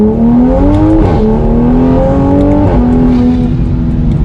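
Toyota Supra A90 driving hard as its tail slides out, a loud, close engine drone whose pitch climbs through the gears with distinct shift dips, steady and uninterrupted.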